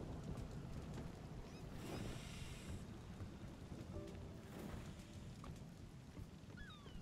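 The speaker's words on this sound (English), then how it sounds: "Ah, we're riding in the storm." Steady rain pours while a boat sails through a storm in the video game Spiritfarer, a dense continuous hiss with a low rumble of thunder underneath, fairly quiet overall.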